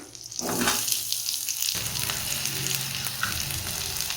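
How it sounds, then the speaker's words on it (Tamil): Ginger, garlic and chili sautéing in hot oil for paneer butter masala, restaurant style, hiss steadily alone with no voice, with a brief quieter lull before the louder sizzle builds and holds. "இஞ்சி பூண்டு மிளகாய் எல்லாத்தையும் சேர்த்துக்கிறேன், வதக்கிக்கோங்க."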